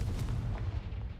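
In the video game Hogwarts Legacy, a Confringo spell goes off with a quiet, muffled boom and a brief low rumble, short and distant-sounding.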